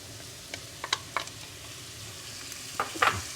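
Chopped artichoke hearts tumble into a hot pan for a Sicilian broccoli pasta casserole, giving a few scattered clicks and soft clatters over a faint, steady sizzle, with a louder burst near the end.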